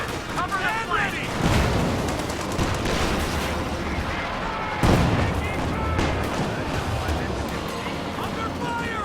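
A video game battle, with dense gunfire and booming explosions in a steady, loud, chaotic roar and sharper blasts near the start and middle, while game voices and talk run over it.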